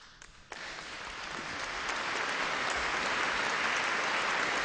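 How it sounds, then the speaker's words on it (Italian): Applause from a church assembly follows a bishop's first homily, a broad, steady clapping that swells after a brief lead-in and carries on unbroken, fairly distant in a large space. "L'applauso di tutta l'Assemblea per la prima omelia"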